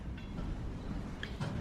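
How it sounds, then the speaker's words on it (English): A train rolls along with a steady low rumble and hum, with faint clicks over the continuous noise. "The steady forward motion and hum of the train dampened Tilda's overactive nerves."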